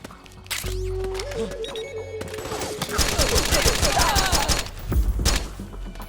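Rapid automatic gunfire in the PS3 game Metal Gear Solid 4, close and loud, rattling in a dense burst through the middle after a droning electronic tone, ending with a heavier thud.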